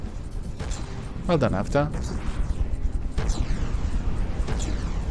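Gunfire and explosions from Avatar's vessel in the naval combat game From the Depths, a loud dense barrage of booms and shots layered with synthetic whooshes, running under a voice speaking throughout.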